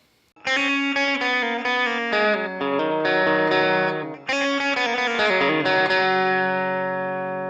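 A slow electric guitar lead lick from a song rings out in clear picked notes on open and fretted strings, loud and close with effects coloring the tone and no talking.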